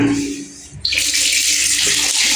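Once an indoor water pump is switched on, water suddenly gushes from a tap and runs in a steady loud splashing stream that continues without pause.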